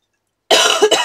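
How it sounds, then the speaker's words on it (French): A single sharp cough up close after a moment of silence, breaking into two quick bursts. "Je suis désolée de tousser encore."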